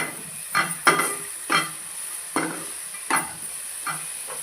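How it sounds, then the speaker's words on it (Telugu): Vegetables and yogurt being stirred in a hot pan for vegetable rice, giving a series of separate scraping, sizzling strokes at an uneven pace against a steady faint hiss. "పెరుగు వేసిన తర్వాత ఒకసారి కలుపుకోవాలి."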